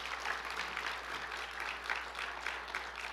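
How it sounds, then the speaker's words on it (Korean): A church congregation claps together at a Sunday evening service, a steady, moderately distant wash of applause with no voices over it. "박수 한번 주셔주시면 감사합니다."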